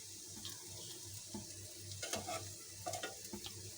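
Onion fritters (piyaju) frying in hot oil, a steady close sizzle with occasional stirring clatter and brief bursts of crackle, no talk.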